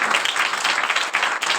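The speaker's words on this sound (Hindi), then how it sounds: "खुदा के जलाल के जोरदार तालियां बजाएं।" A church congregation at a Christian service bursts into loud, sustained applause. Many hands clap together in a dense, steady wash close by.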